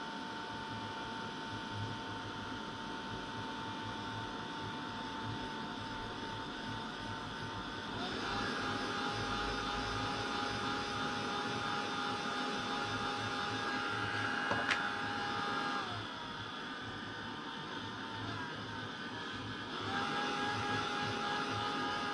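A heat tool blows hot air to dry a very wet card, giving a steady, loud whirring blower drone with a constant whine that shifts slightly in pitch and level partway through. It runs without pause and without talk.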